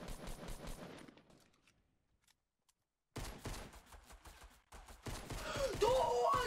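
Rapid automatic gunfire in Fortnite rattles in dense bursts, drops into near silence for a moment, then resumes in loud sustained volleys.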